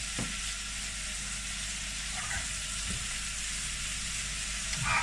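Garlic and onions fry in a pan with a dense, steady sizzle close by, a few soft stirring clicks coming through the constant crackle.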